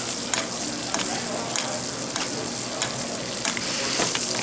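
Louvar fish frying in butter in a pan, a steady close sizzle with faint crackles and occasional stirring sounds running throughout.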